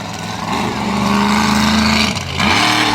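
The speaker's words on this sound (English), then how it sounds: "Turning that truck around in turn one. Ready to go for his next hit." A monster truck engine revs hard in the arena at Swedesboro, New Jersey, a loud sustained roar with a steady pitch that drops off briefly near the end before the throttle opens again, close and dominant.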